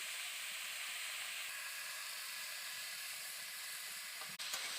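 Cut eggplant sizzles in a pan with bitter gourd and potato, a steady close hiss that holds evenly throughout with one brief dip near the end, no voices.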